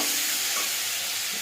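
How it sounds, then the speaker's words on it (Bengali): Malabar spinach sautés with salt and chilli in a pan, giving a steady, dense sizzling hiss that holds evenly throughout at close range, with no voices. "নুন লঙ্কা সব দিয়ে একটু কষিয়ে নিয়েছি"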